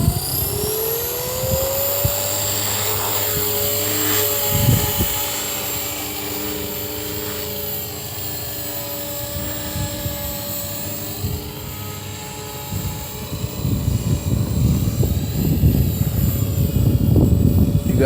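A Walkera v450D03 RC helicopter flies on a windy day, its steady rotor and motor whine holding throughout, with a rising pitch sweep early on and louder, gusty wind buffeting toward the end.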